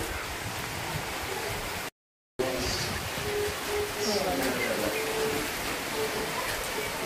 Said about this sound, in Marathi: झाला बघा पाऊस पडायला सुरू, वारं बी सुटलंय